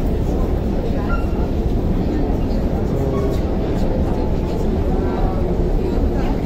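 Continuous low rumbling of a Moscow metro train and station machinery on an escalator ride, a dense mechanical drone with faint voices mixed in.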